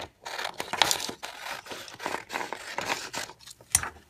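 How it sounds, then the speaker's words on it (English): Scissors cutting a shape out of paper for a tin can Minecraft pen pot craft: repeated close crisp snips and rustling paper crinkles in an uneven rhythm, loud and alone. "Then you cut out your shape."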